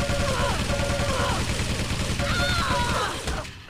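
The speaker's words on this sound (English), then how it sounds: "MG on MG against Nightops" Two players trading machine gun fire in a Quake team deathmatch, a dense rapid rattle of shots under an excited commentator talking over the action throughout.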